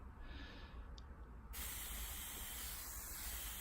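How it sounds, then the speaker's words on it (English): Soft hissing bursts from a spray bottle misting water into a Theraphosa tarantula enclosure, a quieter spritz first, then a longer, louder continuous spray, close by. "we will give these a little spray while we're at it now"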